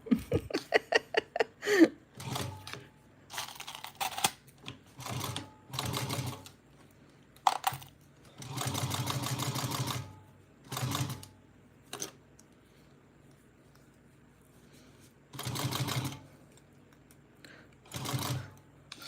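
A sewing machine stitches a small Araki box bag in short bursts of whirring separated by brief pauses, close and fairly loud, with no one speaking.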